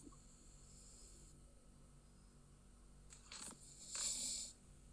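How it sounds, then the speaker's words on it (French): A man snores quietly in a room, a couple of soft, breathy snorts near the end, faint against a low background hum. "Il ronfle ce couillon."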